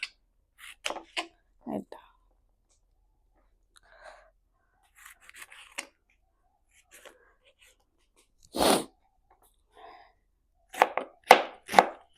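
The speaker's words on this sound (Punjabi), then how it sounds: "ਆ ਵੇਖੋ ਸਿੰਗਲ ਸਿੰਗਲ ਬੰਦ ਗੋਭੀ ਜਿਹੜੀ ਆਪਾਂ ਬਰੀਕ ਬਰੀਕ ਕੱਟਣੀ ਆ" A knife chops cabbage finely on a board for Hakka noodles, giving sparse, uneven thuds in small clusters separated by quiet gaps, close and fairly soft.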